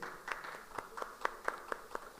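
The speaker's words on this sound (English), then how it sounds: "Let's give him a round of applause, please." A small audience at a sports media forum gives a round of applause, a few sparse, distinct claps in an uneven rhythm, fairly quiet and slightly distant.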